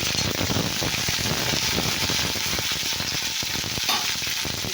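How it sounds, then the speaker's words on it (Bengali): Cauliflower florets stirred and fried in an oiled pan, giving a loud, continuous crackling sizzle broken by quick scraping strokes of the spatula. "একটু নাড়া হোক ফুলকপিটা, তারপরে আমি আলুটা দিয়ে নেব।"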